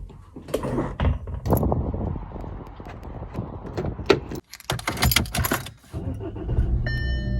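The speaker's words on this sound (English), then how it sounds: "Keys." A bunch of keys jangles and rattles in several bursts beside a Ford Fiesta race car, with metallic clinks and a door-like thud, loud and close, no talk over it.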